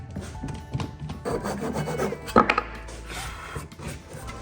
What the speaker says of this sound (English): We'll flip it around now, cut the other side.